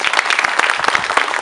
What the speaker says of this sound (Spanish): Aplauso, don Armando.